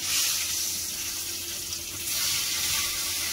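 Fish pieces frying in mustard oil in a kadai, a bright even hiss of sizzling held steady throughout at close range before cutting off abruptly, without any speech.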